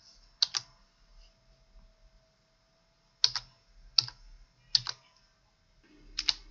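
Someone types an email address on a computer keyboard in a quiet room: sparse, crisp key clicks arrive in small bursts separated by pauses, close and clear.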